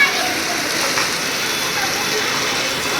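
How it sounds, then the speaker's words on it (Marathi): Steady heavy rain pours down in a broad, even hiss at constant loudness, with no pauses, while people sit eating ice cream outdoors during the downpour. "मस्त मस्त पाऊस पडतोय आणि आम्ही खातोय आईस्क्रीम सगळेजण"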